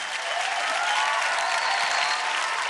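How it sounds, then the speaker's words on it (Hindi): A studio audience on a televised dance competition claps in a brief, dense, continuous burst at full volume, with faint musical tones beneath. "तालियां सनम के लिए।"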